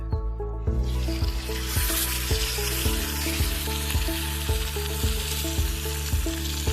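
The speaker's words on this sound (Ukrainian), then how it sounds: "я хочу розігріти м'ясо на пательні, а потім його стушити з картоплею" Nutria meat sizzles and fries loudly in a hot cast iron pan, a steady close crackle with rhythmic scraping strokes as the pieces are stirred; no one speaks.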